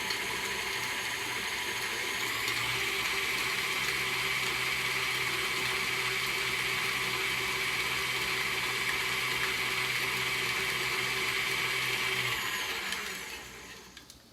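Electric hand mixer whirring steadily as it blends lime no-bake cheesecake mix, a continuous motor drone that runs for about twelve seconds at even speed before cutting off and tapering away.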